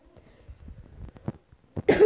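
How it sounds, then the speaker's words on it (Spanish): A single person coughs once, loudly and up close, near the end, after a stretch of faint low rustling and mouth noise. "no estoy resfriado, tengo tos"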